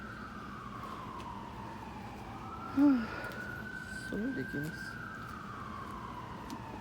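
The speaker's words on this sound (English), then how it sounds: "you hear the siren trying to shut me up too?" A siren wails in the distance, its pitch slowly sweeping down and back up, while a person speaks briefly over it.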